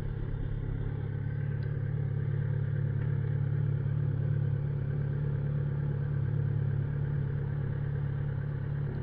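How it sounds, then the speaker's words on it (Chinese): A motorcycle ridden through Singapore traffic keeps up a steady, loud, low engine drone and rumble as the clutch is released and the bike rolls forward, with no talk over it. "对，声音变轻，摩托车往前走。"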